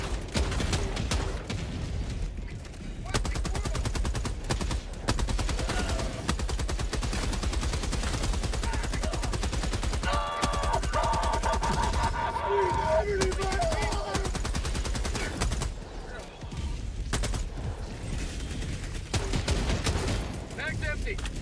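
Sustained automatic gunfire from a weapon being emptied in the Helldivers 2 video game, dense rapid bursts running nearly continuously with brief pauses, loud and close, with someone talking over it at times.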